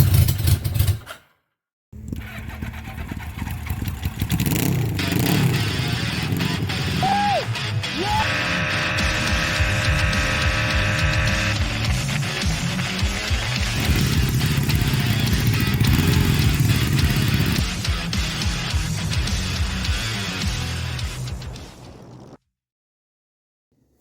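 A Suzuki GS750 motorcycle engine cranks, fires up after a brief silence and settles into a loud, steady, rough idle with throttle blips and mechanical clatter close by before cutting off.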